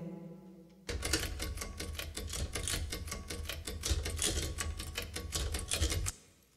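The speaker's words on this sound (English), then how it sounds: "the typewriter in my living room, which I dusted off and started playing around with" Old typewriter in a living room, keys struck in a steady rhythmic pattern: dense clacking strikes with occasional bell-like dings, loud and close, running continuously for about five seconds after a quiet start, no voices.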